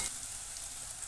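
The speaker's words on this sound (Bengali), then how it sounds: "নুনটা দিয়ে ভালো করে আরও একবার ভেজে নেব।" Small potatoes frying in oil with a pinch of salt, a steady soft sizzle heard close and alone without talk.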